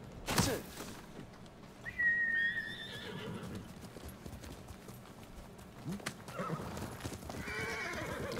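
A horse whinnies clearly and hooves clip-clop in Ghost of Tsushima, with a sharp thump at the start, a whistle-like neigh, and further trotting and rustling toward the end.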